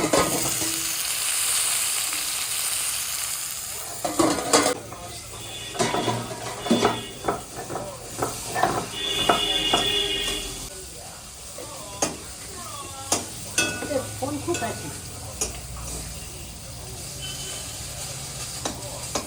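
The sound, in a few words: mustard greens frying and being stirred in a pan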